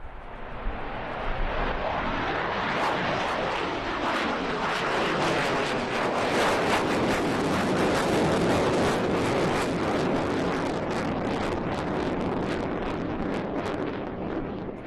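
A MiG fighter jet flies a short solo air show display, its engine a loud, sustained roar with wind buffeting the microphone throughout.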